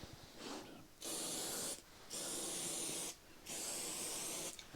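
A spray can coats ammunition cases for reloading, three steady hissing bursts about a second each, separated by brief pauses, close and fairly quiet.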